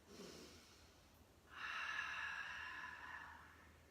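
A deep breath during a yoga flow: a soft airy inhale, then a longer, fuller exhale that is quiet and close, with no speech.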